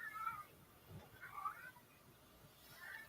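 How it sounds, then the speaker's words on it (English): A house cat meowing faintly in the background, three short calls spaced about a second apart, soft and somewhat distant with no talk over them. "Is that a cat?"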